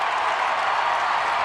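A hockey arena crowd at a Maine versus New Hampshire college game cheering and clapping, forming a dense, loud, continuous wash of applause.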